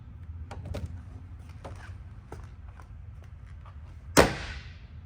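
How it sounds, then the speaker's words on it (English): A 1953 Jaguar XK 120 fixed-head coupe's door opens with soft clicks and rustling, then after a pause slams shut with a single loud, sharp thud that rings briefly. "I want you to hear the door open and close"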